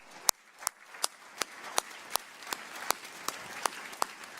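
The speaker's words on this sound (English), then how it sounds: "give a round of applause to your parents for supporting you all the way through it" A few people clap sparsely at an awards ceremony, about a dozen distinct, evenly spaced claps at a steady rhythm, fairly quiet and close.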